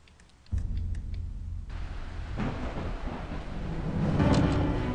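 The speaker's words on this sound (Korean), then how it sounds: "비가 오네요. 번개도 치죠." Rain and thunder in a Korean RPG Maker game, A Bird Story: a steady loud wash of rain begins abruptly and continues throughout, with a low rumble building toward the end.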